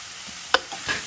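Onions and green chilli sautéing in a pan for Chennai-style vadai curry, a gentle sizzle with a single sharp clink of a spoon against the pan and a soft scrape after it, close and brief.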